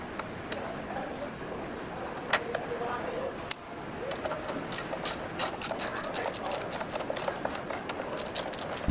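A ratchet tightens bolts on a Honda RS125 FI brake during a brake pad change, with scattered clicks at first, then a quick run of close, crisp ratcheting clicks in the second half.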